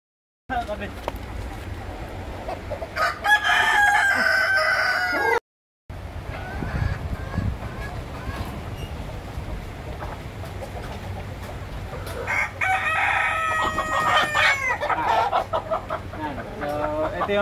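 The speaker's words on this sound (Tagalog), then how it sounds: "Ito yung isang example natin ng mga manok." Free-range chickens on an organic farm, including a young black-meat Ayam Cemani type, cluck and crow in bursts, strongest early on and again near the end, with steady outdoor background noise and a brief dropout partway through.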